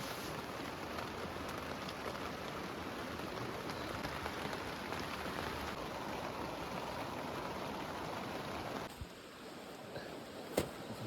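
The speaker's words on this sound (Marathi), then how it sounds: "पाऊस वाढला तर लय बरं होईल" Steady rain patters down on a night campsite as a dense, even hiss that drops away sharply near the end, followed by a single sharp click.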